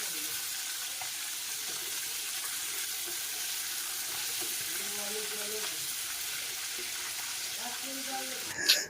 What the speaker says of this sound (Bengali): আমি এখানে মাংসগুলোকে ভালো করে ভেজে নিচ্ছি